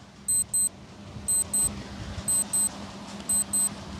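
A quiz countdown timer effect: a steady low background bed with paired high electronic beeps repeating about once a second, each pair two short bright tones close together, clear and alone with no talk.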